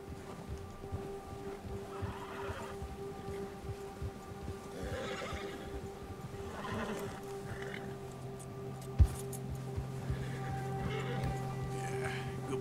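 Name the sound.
horses neighing in video game Red Dead Redemption 2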